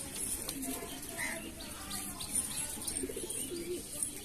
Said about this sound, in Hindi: ये रहा वो कबूतर जो कि आपके सामने लाइव पकड़ा है अभी